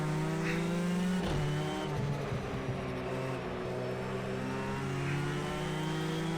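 A GTE race car engine in Project CARS 2 revs hard in first gear, a steady loud drone with a brief dip and harmonic shift near one second before settling back to a sustained high-revving whine.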